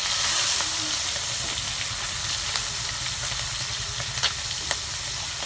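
Eggs frying in a pan give a loud, continuous sizzling hiss with scattered small pops and crackles, close and steady throughout.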